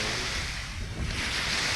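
Sea surf rolling onto a beach where people are bathing, a steady broadband wash of breaking waves mixed with wind noise on the microphone, loud and continuous with no talk.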